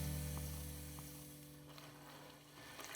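Ravioli simmering in a wild mushroom sauce in a pan give off a soft, steady sizzle with faint bubbling pops, quiet and close, fading slightly toward the end.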